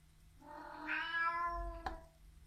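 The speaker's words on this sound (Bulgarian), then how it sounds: "Имаме котка тук в работилницата." A cat meows once in a workshop, a single drawn-out call rising and then falling, fairly close and with no talk over it, followed by a short knock against a low background hum.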